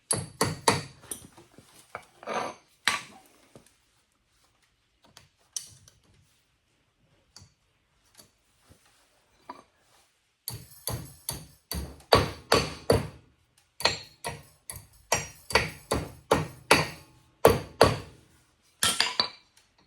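A cotter pin being tapped into a VW Super Beetle chassis: sparse metallic taps at first, then bursts of quick, sharp, close hammer strikes in uneven clusters, with quiet gaps between them.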